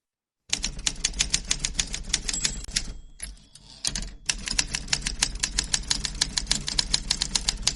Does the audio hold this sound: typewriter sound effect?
yes